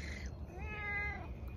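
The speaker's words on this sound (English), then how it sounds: "What is it, Mama Kitty?" A cat lets out a single faint, rising-and-falling meow, quiet and somewhat distant, over low background noise.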